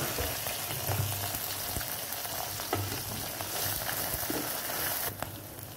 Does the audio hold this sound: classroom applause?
no